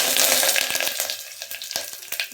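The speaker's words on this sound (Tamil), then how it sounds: "நெய் காஞ்சிருச்சு இப்போ கடுகு போட்டுக்கலாம் கடுகு நல்லா பொரிஞ்சிருச்சு" Mustard seeds splutter in hot ghee, a loud, close hiss with rapid crackling pops and sharp sputters that thin out slightly over a couple of seconds.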